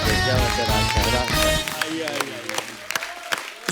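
Studio audience at a Hindi comedy talk show claps and cheers loudly over music, the applause fading into scattered claps.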